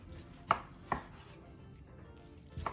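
A knife slices through rested roasted pork tenderloin on a board, making three soft, separate thuds spread over a few seconds, quiet and close with no talk.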